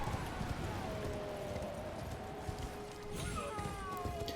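Horse hooves gallop in Elden Ring, a steady rapid clatter running throughout amid game music and ambience at moderate level.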